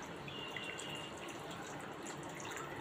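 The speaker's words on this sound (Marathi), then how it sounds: "याच्यामध्ये थोडंसं पाणी घालायचं आहे" Water goes into a pan of sautéed ground masala for a Konkani-style cashew curry, making a faint, continuous splashing trickle under a soft, even background hiss.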